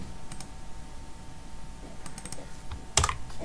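Computer keyboard keys pressed while filling in a mark sheet: a few scattered soft clicks, then one sharper, louder keystroke near the end, close by against quiet room noise with no talking.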